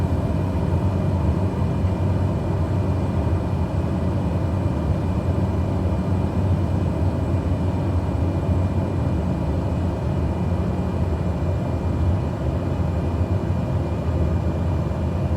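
A simulated Cessna 208 Caravan in Microsoft Flight Simulator holds a steady, loud, droning engine rumble on landing approach with throttle back, unbroken and without talk.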